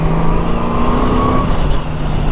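A Honda Rune motorcycle with its Goldwing flat-six power plant runs close by, a smooth, steady engine drone with a rising tone.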